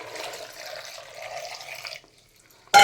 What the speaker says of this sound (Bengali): মধ্যে জল ঢেলে দিচ্ছি